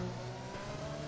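Brief burst of a Red Bull Formula race car engine at the British Grand Prix, a steady high-revving whine with harmonic tones, close and sustained for about a second.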